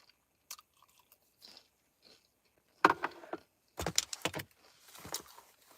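Crunchy food being bitten and chewed close up in a van at night, with a few loud crunching bites clustered in the second half after faint quiet sounds.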